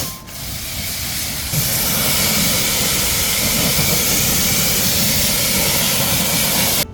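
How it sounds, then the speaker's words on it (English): A hose rinse sprays water across ceramic-coated car wheels to wash off dirt and brake dust, a loud, steady hiss that holds for several seconds with no speech. "Look at all that dirt and brake dust washing off."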